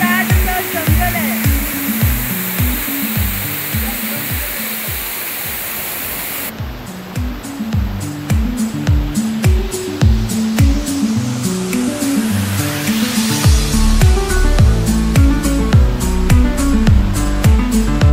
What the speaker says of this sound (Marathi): मला माहीत नाही आवाज केवढा ऐकायला येतोय, पण मी वॉटरफॉलचा व्ह्यू तुम्हाला दाखवते